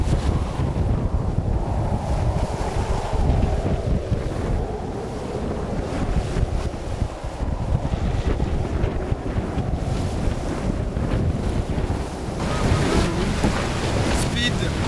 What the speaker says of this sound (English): Big waves hitting us on the side.